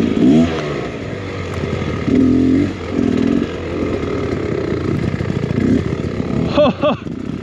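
A Beta X Trainer 300 dirt bike engine buzzes and revs unevenly on a wet hard enduro trail, close and loud, with short throttle blips and some clattering as a rider speaks over it.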